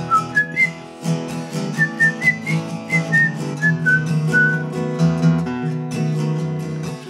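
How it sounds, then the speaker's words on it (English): A man whistles a tune, a bright sequence of clear sliding notes over a steady musical backing, loud and close, with no talking. "I want to whistle here."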